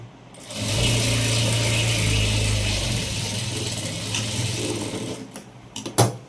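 Sewing machine stitching a folded seam on a princess-style blouse, a steady close mechanical whir running for several seconds before slowing to a few last clicks and thumps.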